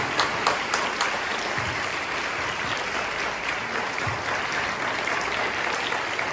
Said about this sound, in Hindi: तो एक बार फिर जोरदार ताली हो जाए